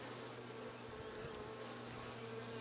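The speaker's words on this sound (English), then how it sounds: "certainly a lot of bees in that upper chamber" Honey bees buzz continuously in the upper chamber of a hive, a dense, steady drone that stays even and close without any voices.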